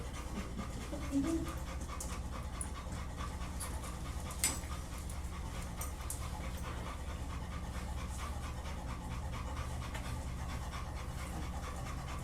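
A dog pants steadily and rapidly close by during behavioral training, a continuous rhythmic breathy pulse with no talk over it.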